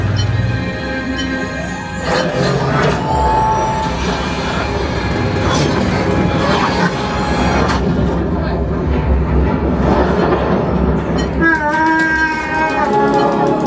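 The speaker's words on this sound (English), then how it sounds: "There's the train." A train rumbles steadily past on the Millennium Falcon: Smuggler's Run ride amid loud ride noise and music, with clanking and shouts rising over the continuous roar.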